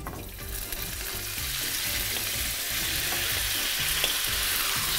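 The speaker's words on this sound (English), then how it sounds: "So now we're just going to seal off the pork," Pork searing in an oiled pan, a bright, steady hiss of sizzling that swells slightly after the meat goes in, with faint stirring underneath.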